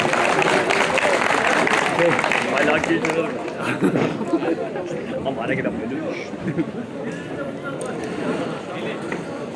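Applause from a seated audience at a Turkish civic gathering in İnegöl as the district governor is invited to the podium, dense clapping with crowd murmur throughout, fairly loud and steady.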